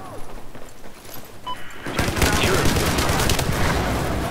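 Automatic gunfire in the video game Battlefield 4 erupts after quieter game ambience, a dense rattling burst that continues steadily to the end.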